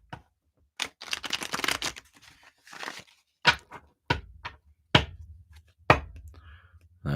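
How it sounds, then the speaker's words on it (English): Playing cards are riffled and shuffled in several bursts, crisp fluttering rustles followed by sharp taps as the deck is squared, close up and otherwise quiet. "Chase, I'm going to shuffle up for you."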